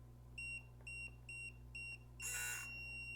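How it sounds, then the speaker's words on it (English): Four short electronic beeps from a Hidalife HL-300L smart lock keypad, one per button press at an even pace, followed by a longer, louder tone, all close and clear over a faint steady hum. "we hear the audible beep after each input"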